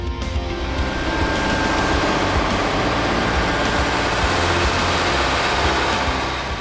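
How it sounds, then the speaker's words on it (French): A John Deere 8RX crawler tractor with a 5-metre blade pushing huge amounts of silage into a bunker silo, a loud, steady diesel drone with a broad rumble held throughout, no voices. "Le tracteur à chenilles 8RX est chargé de pousser les énormes quantités d'ensilage dans le silo couloir."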